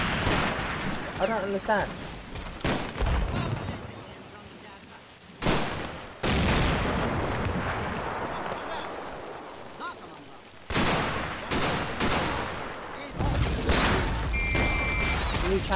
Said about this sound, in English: Where the hell is the mortar still coming in again?